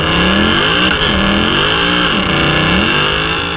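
A Magnuson-supercharged Mercedes engine revs hard as the driver accelerates, its pitch rising and dipping through several loud, close sweeps with a constant high whine running above.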